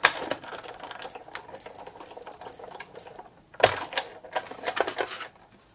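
A Big Shot die-cutting machine cranked by hand to run paper through, a ratcheting mechanical whir and clatter with a sharp clunk partway, close and fairly loud.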